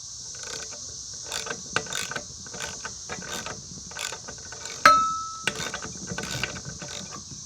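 Half-inch drive ratchet clicking on a 20-inch Murray push mower during crankshaft work, a run of quick mechanical clicks and ratchet bursts, close and moderately loud, with no talking.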